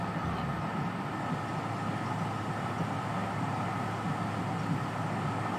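Steam locomotive 844 running in a train video game, a quiet, steady rumble with a constant low hum and no clear rhythm.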